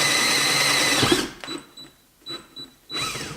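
A drill buzzes loudly for about a second, then stops; a few short whirring bursts follow before it spins up again at the end.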